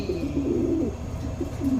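Pigeons sitting on eggs give soft, low repeated coos, near and steady against a faint background hum with no talking.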